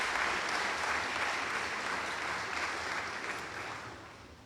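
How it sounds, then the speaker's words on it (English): A large audience at a college convocation gives a round of applause, a thick, steady roar of many hands that holds evenly and slowly tapers near the end. "Let's hear a warm TCC round of applause for all those who will be recognized here this afternoon."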